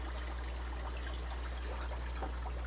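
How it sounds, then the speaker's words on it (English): Water poured out of a container holding fish fry, a soft continuous trickle and splash heard up close and fairly quiet over a steady low hum. "So first off, we're gonna dump some of the water"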